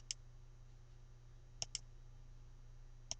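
A computer mouse clicks on a transfer stock button in point-of-sale inventory software, giving four sharp close clicks, one alone, then a quick pair, then one more, over a quiet electrical hum.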